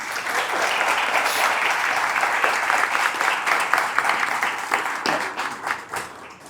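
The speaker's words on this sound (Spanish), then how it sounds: "les demos un fuerte aplauso" A live audience applauds panelists at the close of a business and sustainability dialogue event, a steady wash of many hands clapping that holds strong, then thins out and tapers toward the end.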